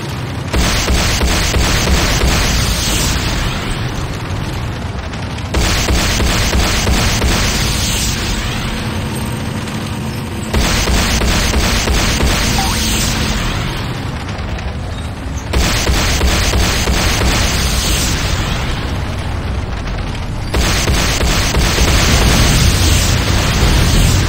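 The Nod airstrip being destroyed in the video game Renegade: loud, sustained roaring explosions and blasts in repeated five-second waves separated by brief dips, dense and continuous for the whole stretch.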